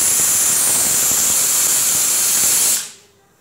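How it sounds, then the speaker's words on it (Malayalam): A pressure cooker cooking dal khichdi vents steam in a loud, steady hiss close by, then the hiss cuts off sharply into near silence. "ഇത് 3-ാമത്തെ വിസിലാണ്."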